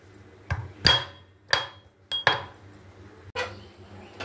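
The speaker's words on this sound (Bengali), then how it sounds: "এই আদাটাকে ছেঁচে নিই" Ginger pounded with a dried chilli for a Bengali masoor dal bati chorchori, about six heavy, evenly spaced thuds of a crusher striking a metal dish, each with a short ringing clink, close and loud.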